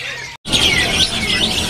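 Young cucak ijo songbird, a juvenile male, giving bright continuous chirping calls close by, with a brief silent gap near the start and the rest filled with steady warbling.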